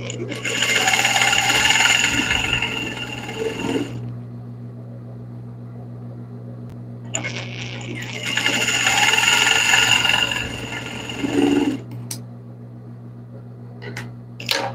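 A sewing machine stitches a seam along the front edge of a felt bunny, running in two long bursts with a quiet pause between them and a short hum after.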